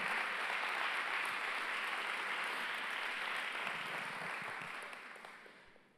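A church congregation gives a loud, sustained round of applause at a Saturday service, dense and steady clapping that fills the room before gradually fading out toward the end.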